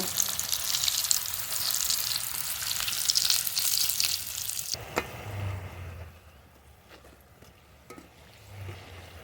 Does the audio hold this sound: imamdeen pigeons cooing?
no